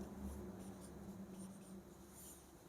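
Pen scratching out notes on paper during a lesson, very faint, soft irregular strokes over a low background hum, with no speech.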